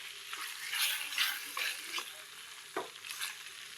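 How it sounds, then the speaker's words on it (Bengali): Chicken sautéing over low heat in a pan for a curry, with soft sizzling under repeated spatula scrapes and stirring strokes, close by. "চিকেনটা দিয়ে এটা ধীরে ধীরে একটু আঁচ কমানোই থাকবে, ধীরে ধীরে একটু এটাকে কষাবো"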